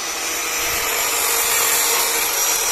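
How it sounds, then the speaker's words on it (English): A power tool cuts through the rusty steel sill of a BMW E36 in a workshop, giving a loud, steady, high-pitched grinding rasp that runs close and unbroken throughout with no talk. "And so the sill is cut now, and Jake's just in the middle of cutting it"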